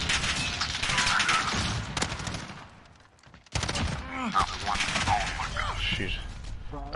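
Rapid M4 rifle gunfire from a PS4 video game plays in dense, crackling bursts that fill nearly the whole stretch, broken by a brief quieter gap midway before the shooting resumes loudly.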